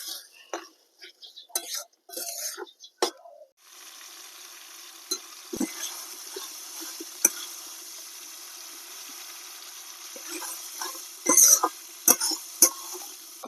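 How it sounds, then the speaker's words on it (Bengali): Spice paste fries and gets stirred in a pan after a splash of water for a Bengali-style chicken curry, with a soft steady sizzle broken by scraping stirs and light clinks, plus brief voices early on. "এবারে সামান্য জল দিয়ে মশলাটা ভালোভাবে কষিয়ে নেব।"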